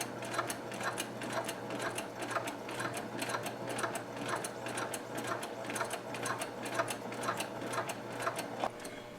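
Embroidery sewing machine stitching fabric in a steady, fast mechanical rhythm of ticking needle strikes over a constant motor hum, close and alone without talk.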